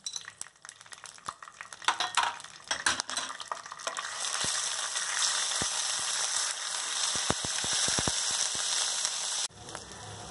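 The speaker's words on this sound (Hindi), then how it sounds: "अब इसके अंदर मैं अदरक लहसुन की पेस्ट डाल रही हूँ" Steady sizzling of ginger garlic paste frying in hot oil, with a spoon scraping and clinking against the pan as it is stirred.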